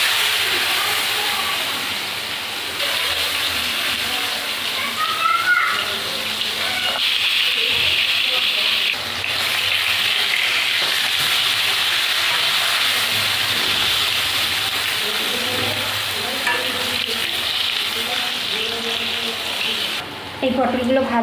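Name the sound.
pointed gourd (potol) frying in oil in a wok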